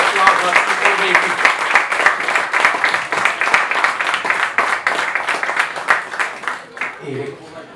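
An audience claps at a tribute poetry-and-music evening, with dense, sustained applause close by that thins out and fades near the end, with some voices mixed in.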